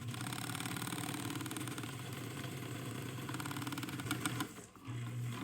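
A domestic sewing machine stitches fabric in a steady, fast mechanical whir, pausing briefly near the end before running again, close and fairly loud with no voices.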